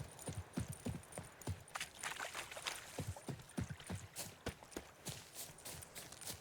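Rapid, rhythmic hoofbeats of a galloping horse in the video game The Witcher 3 thud steadily over a faint background hiss, with no talking.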